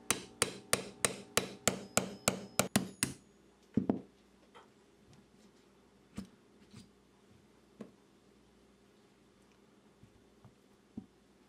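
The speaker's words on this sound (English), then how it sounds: "you just want to drive the hammer." A hammer drives a punch to knock roll pins out of an Aero Survival Rifle, first a quick run of about a dozen sharp metallic taps, then a few scattered, softer knocks after a pause, close and without talk.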